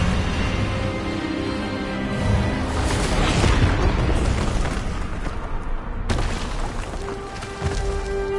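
A booming spell blast from Hogwarts Legacy, the Expelliarmus disarming charm cast in a duel, a loud rumbling burst swelling mid-clip, then a sharp crack near the end against a musical score.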